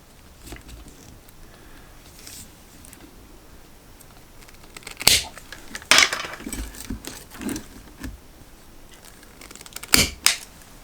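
Wires being cut from BMW F21 seats during a heated-seat retrofit into a BMW E36. In a quiet room, a few sharp, isolated snips and clicks land close by, several seconds apart.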